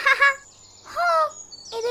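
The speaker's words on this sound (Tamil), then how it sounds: "அங்க பாருங்கப்பா, நிறைய பறவை வந்துருச்சு." Several birds gathered at scattered bird food give loud, close calls in three separate bursts, each a harsh chirping squawk with short pauses between.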